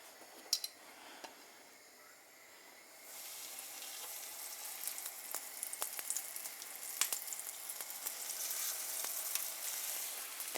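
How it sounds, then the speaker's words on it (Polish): Pork loin cutlets are laid into hot oil in a frying pan. A quiet stretch gives way to loud, crackling sizzle with scattered sharp pops, alone and with no talking. "na gorącym tłuszczu ułożę kotlety"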